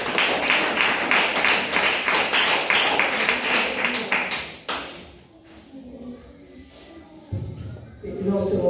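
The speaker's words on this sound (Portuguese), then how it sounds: "palmas para Jesus" A church congregation claps together in a quick, steady rhythm for about four and a half seconds before the clapping stops abruptly, followed by quieter shuffling and thumps.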